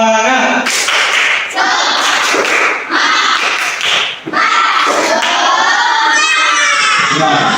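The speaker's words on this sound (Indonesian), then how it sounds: "kita awali dulu dengan tepuk semangat" Schoolchildren in a classroom lesson doing a rhythmic 'tepuk semangat' spirit clap, with loud group clapping and chanted shouts in a steady beat throughout, close and lively.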